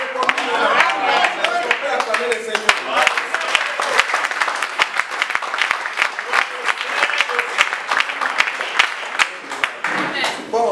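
A church congregation applauds to acclaim the Lord, dense, loud and steady clapping that fills the whole stretch, with voices rising faintly now and then.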